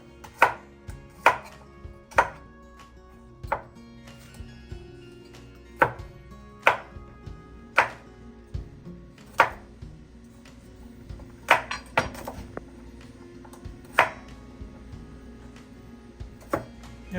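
A knife chops garlic on a cutting board in a string of sharp, distinct strikes, some spaced out and others coming in quicker bursts, with faint clinks of utensils in between and no talk.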